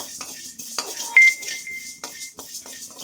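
Urad dal dry roasting in a pan while a utensil stirs, scrapes and clinks against the metal in an uneven rhythm, close up and moderately loud, with no voices.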